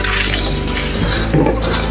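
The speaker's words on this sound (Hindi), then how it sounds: "दाल को हमने कुकर में डाल लिया" Washed lentils are tipped into a metal pressure cooker, making a close, brief rattling clatter of grains against the pot.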